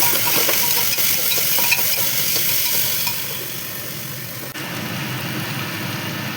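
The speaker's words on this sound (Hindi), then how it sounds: "इनको थोड़ा तेज़ आंच में फ्राई करेंगे।" Chopped vegetables with bell pepper fry over high heat in a pan, giving a steady, fairly loud sizzle that runs continuously and softens slightly partway through, with no talking.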